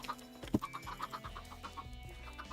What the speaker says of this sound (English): exists that doesn't like the new cold chicken